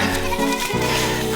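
Baby goats bleat in a steady overlapping chorus, several high wavering cries close by with no pauses between them.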